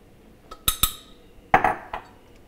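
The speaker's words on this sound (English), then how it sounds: "And then just stir it around a bit." A utensil stirs dark chocolate into warmed cream in a pan, with a few sharp metallic clinks and scrapes against the pan spaced over a couple of seconds.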